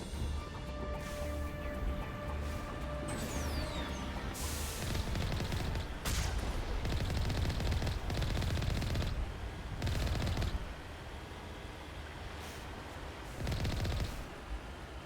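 Sustained automatic gunfire fired at robots in the Mass Effect video game, with the Virmire mission as the setting, comes as dense overlapping bursts and bangs that run across the whole stretch with little letup.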